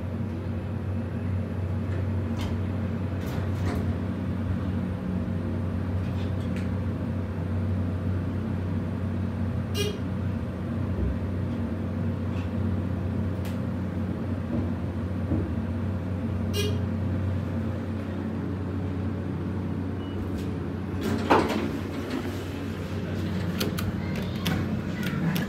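A Dover hydraulic elevator in a downtown Chicago restaurant building hums steadily with a constant low motor drone throughout, joined by occasional faint clicks and a brief louder knock near the end, with no talking.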